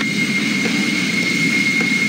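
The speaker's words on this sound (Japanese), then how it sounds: "ヘリは時速300キロだ" A helicopter in an anime-style video game cutscene roars at a steady, dense level throughout, a constant broadband whoosh with a thin whine riding on top and no talk.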